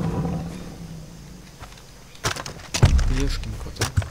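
A tiger roaring in the jungle of the Far Cry 3 game, with a sharp, loud roar bursting in after a quieter stretch. Someone speaks briefly under the ambient sound.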